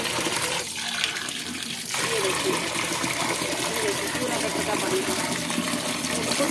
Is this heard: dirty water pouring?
yes